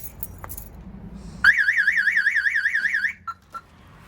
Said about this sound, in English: what you'll get is a very loud siren